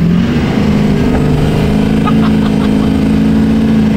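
Compound-turbo Cummins diesel truck engine at about quarter throttle, a loud, steady low rumble with strong harmonic drone held throughout, close by, with faint voices in the background.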